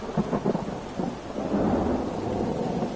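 Rain falling outdoors during a thunderstorm, a steady close hiss of drops with a low thunder rumble rolling through, loud and continuous with no voices.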